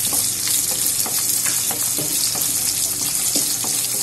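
Chilli and onion frying in a pan for a crispy honey chilli potato dish, giving a steady, loud sizzle with faint scraping and stirring clicks throughout and no voices.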